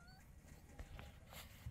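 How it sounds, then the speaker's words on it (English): A cat gives a few short, faint meows outdoors in snow, brief calls spaced over a quiet background. "That's a cat."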